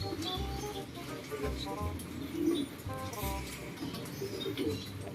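Pigeons being fed pellets coo in a loft, repeated low throaty coos and brief calls close by, with soft shuffling thumps and faint background noise.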